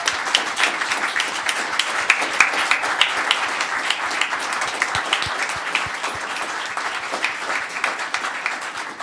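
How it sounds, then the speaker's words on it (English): An audience at a town council meeting claps in a sustained, crowded round of applause, with some individual claps standing out near the front and no talking over it. "I want you all to join me in giving them a very big round of applause."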